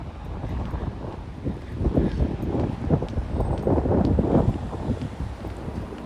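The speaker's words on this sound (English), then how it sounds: "There's lots of wind out here." Strong wind blows outdoors, buffeting the microphone with a continuous low rumble that swells and gusts for several seconds, with no talking.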